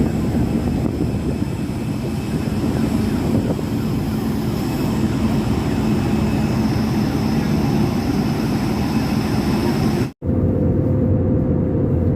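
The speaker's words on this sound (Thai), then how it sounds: "ตอนนี้เครื่องกำลังจะแรนดิ้งแล้วค่ะ" Steady airplane engine roar inside the cabin during descent toward landing at Srinagar, Kashmir, a constant loud drone with a brief dropout near the end.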